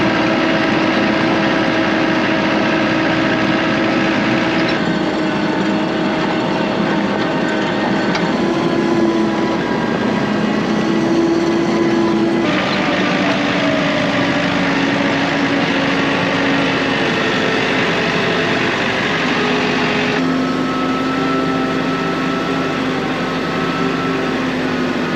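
A tractor on a chicken farm runs steadily in a continuous loud engine drone with a high whine, holding its pitch with slight shifts for the whole stretch, no voices heard.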